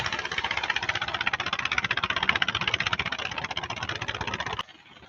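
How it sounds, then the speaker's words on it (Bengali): Fishing boat engines near Kuakata sea beach chug steadily as boats head slowly out to deep sea, a loud, close, rapid knocking thump with rattle that runs continuously before cutting off abruptly near the end. "প্রত্যেকটি নৌকাই ধীরে ধীরে ধীরে ধীরে ধীরে গভীর সমুদ্রে মাছ ধরার জন্য চলে যাচ্ছে"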